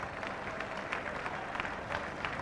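Cricket crowd at a 1994-95 Sheffield Shield final between Queensland and South Australia applauding a batsman's half-century, a steady wash of distant clapping with scattered sharper claps throughout.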